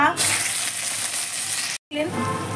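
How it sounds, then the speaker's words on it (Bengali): Ginger paste hits hot oil with spices in a pan for a Bengali dhokar dalna, bursting into a loud, steady sizzle that cuts out abruptly for a moment before resuming. "আদা বাটা দেওয়ার পরে ছিটে গেছে বলে হাতটা সরিয়ে নিলাম"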